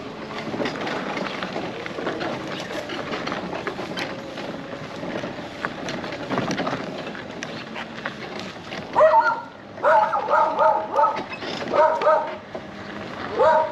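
Dog barking in a short burst of several loud, close yelps near the end, over a background of moving rumble and muffled voices on a nighttime ride aboard a Tesla chopper.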